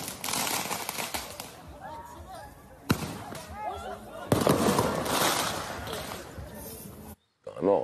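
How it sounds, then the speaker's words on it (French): Firework mortar shots fired at a school gate, two sharp bursts followed by crackling and whistling, heard outdoors at mid distance with people talking over and between the blasts. "un individu cagoulé s'est présenté devant les grilles de l'établissement et a allumé un mortier, puis l'a tiré en direction de la proviseure aussi"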